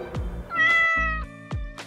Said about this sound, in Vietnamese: ví dụ như tiếng mèo kêu